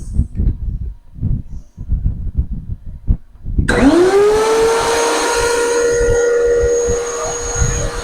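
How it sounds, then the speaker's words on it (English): A DeWalt DW735 thickness planer motor starts up and rises into a steady, loud whine with a tonal hum that holds for several seconds, following a stretch of quieter clatter and movement. "I went ahead and threw the 735 back up here because I'm telling you, man, it's amazing how quiet it is compared to this thing."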